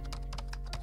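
Rapid keyboard typing during a typing video game, a burst of crisp close key taps in an uneven rhythm over a steady low hum, no one speaking.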